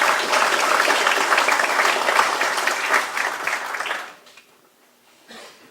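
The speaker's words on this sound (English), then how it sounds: "Big round of applause for everyone participating there" Hurling fans in a studio audience give panel participants a round of applause. The full, steady clapping lasts about four seconds before fading out into near quiet, with a brief faint sound near the end.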